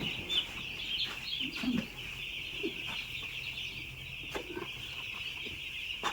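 Many chickens in a poultry shed cluck and chirp together in a steady, busy chorus, with a few louder clucks rising nearby.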